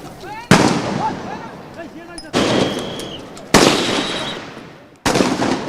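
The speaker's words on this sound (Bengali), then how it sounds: "আশপাশে তখন মুহুর্মুহু গুলির আওয়াজ" Repeated gunfire rings out during a protest near a university campus, four sharp loud blasts spaced about a second or more apart, each followed by a long echoing decay, with distant shouting between them.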